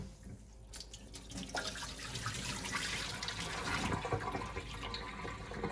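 White rice being rinsed under running tap water, a steady broadband gush of water splashing and swirling through the grains in a pot, close and continuous with no talking.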